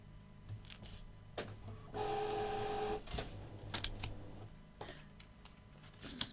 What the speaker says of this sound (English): Apologies if you could hear my printer then, it's just winding down.